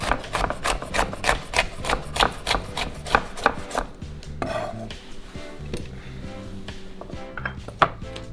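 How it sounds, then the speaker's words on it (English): A knife taps rapidly on a cutting board in a fast, even rhythm of close chops through a Scotch bonnet pepper, then slows into a few scattered cuts and scraping. "we'll take our Scotch bonnet pepper here, cut that up as well"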